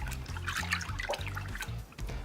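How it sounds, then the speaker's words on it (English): Running water rinses a galvanized nipple fitting from a drain line, a steady close splashing and trickling that carries on through the whole stretch with a few brief dips. "I'm gonna get this rinsed off really,"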